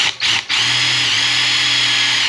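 Cordless power drill whirring steadily at close range, briefly stuttering twice at the start before settling into a continuous high-pitched motor whine.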